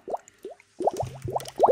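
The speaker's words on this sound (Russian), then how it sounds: "А теперь наполняем емкость гужидкости." Goo Jit Zu goo liquid poured into a small container, heard as a run of close, wet squelching plops and drips in short bursts with brief pauses.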